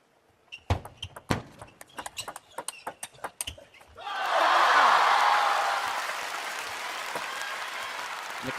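Sharp, rapid knocks of a table tennis rally at a men's quarterfinal in Chongqing give way to a swelling burst of crowd applause and cheering that stays loud, then slowly eases.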